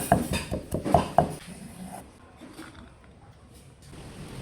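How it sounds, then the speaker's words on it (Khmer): Garlic cloves, five small ones, pounded in a mortar while cooking stir-fried ginger with pork belly: several sharp knocking thuds in the first second and a half, then quieter scraping and faint room noise. "ហើយឥឡូវនេះខ្ញុំមកដំខ្ទឹមសមុនដើម្បីកុំឲ្យវាប្រឡាក់ជ្រុញណា"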